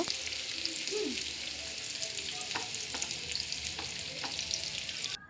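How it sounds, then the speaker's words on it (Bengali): Garlic, onion and chopped green chilli frying in oil for a creamy cheese pasta, a steady close sizzle with a few light stirring clinks and no speech. "এই যে রসুন, পেঁয়াজ আর কাঁচা লঙ্কা কুচি আমি তেলের মধ্যে ভালো করে ভেজে নিচ্ছি।"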